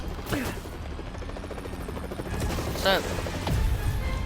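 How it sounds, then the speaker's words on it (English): Helicopter in a video game, its rotor chop and engine rumble running steadily under game effects and someone talking, with a brief louder swell near the end. "Why the hell would they steal a flippin' chopper?"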